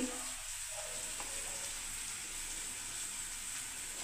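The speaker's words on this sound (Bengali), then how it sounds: "আমি এই মশলাটাকে একটু কষতে থাকবো বন্ধুরা" Turmeric and Kashmiri red chilli powder sautéing in a pan, a steady close sizzle of frying that runs unbroken throughout with no talk.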